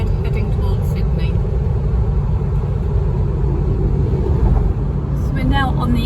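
Steady low road rumble from a car travelling along the old Pacific Highway in Australia, constant tire and engine noise throughout with a voice talking over it.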